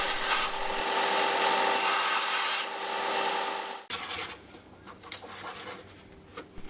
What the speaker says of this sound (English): I rough the surface of the hinge up to allow the glue to key to it.